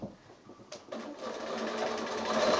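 A sewing machine stitches binding onto a quilt with raw edges together, starting up with a couple of clicks and then running in a steady, quiet, close mechanical whir.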